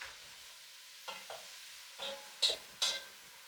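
Sliced leeks and peppers get stirred around a frying pan, giving a few scattered scraping strokes with a faint sizzle underneath, close and otherwise quiet.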